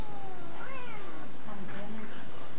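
A cat meows several times while being handled roughly by a monkey, the wavering cries rising and falling over background noise and scattered voices.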